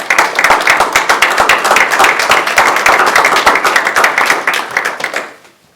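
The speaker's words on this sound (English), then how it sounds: "would you all please join me in giving them a round of applause?" An audience at a school board meeting claps, a fairly sparse group whose individual hand claps are distinct and close, keeping a brisk uneven rhythm for about five seconds before tapering off to silence.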